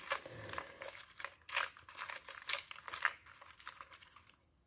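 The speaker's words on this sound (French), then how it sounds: "Je vais aller piger quelques petits cartons pour faire différent" Small oracle cards being drawn and handled from a deck, giving close, dry crinkling and papery rustles in irregular bursts that fade out at the end.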